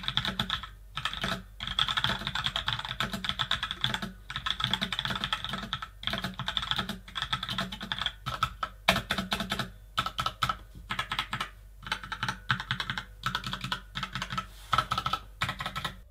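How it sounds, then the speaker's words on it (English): Fast, steady typing on a Roccat Suora mechanical gaming keyboard, crisp clicky keystrokes in bursts with brief pauses, close and clear with no talking. "For actual typing, this keyboard feels great,"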